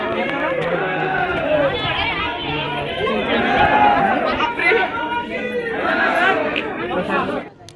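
Dense crowd chatter at a busy hilltop temple on Parasnath hill, many voices overlapping in a steady, loud babble that runs throughout, with a few louder calls rising above the murmur.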